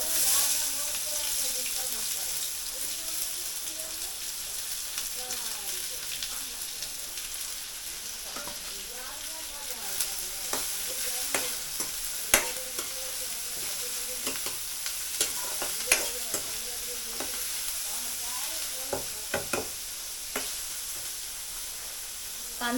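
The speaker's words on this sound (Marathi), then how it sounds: "आता मी यामध्ये कांदा टाकते." Chopped onion sizzling and frying in a pan while stirred for a red amaranth (lal math) vegetable dish, with a steady hiss and occasional utensil clicks and scrapes, close and continuous.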